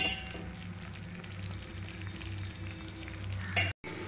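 Ghee is poured bit by bit into a Mysore pak mixture and stirred in a pan. A steady, close sizzle bubbles throughout, with a brief scrape and a sudden cutoff near the end.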